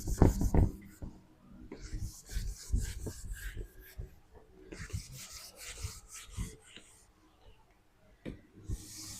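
An eraser rubs writing off a classroom board during an Arabic grammar lesson, a run of brisk, rasping strokes in uneven bursts, close and fairly loud with short pauses between passes.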